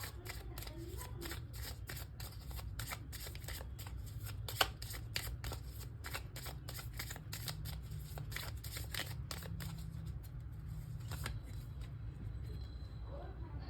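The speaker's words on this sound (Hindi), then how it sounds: "now let's pull some self-care cards out and see what's the message for you" Tarot cards being shuffled by hand, a faint, steady run of soft riffling clicks and slides over a low background hum.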